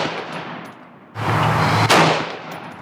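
A Ruger AR-556 AR-15 rifle fires one loud, sharp report on an outdoor range, followed by a decaying echo and a second burst of noise, with no talk.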